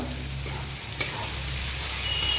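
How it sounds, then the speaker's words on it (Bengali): Spice masala stirred in a hot pan for Bengali-style mutton curry, sugar just added; a steady close frying sizzle runs throughout with a single soft scrape of the spoon partway through. "একটু নাড়াঘাটা করে নিতে হবে, নাহলে ইলিশের ঠিক মশলাটা তৈরি হবে না।"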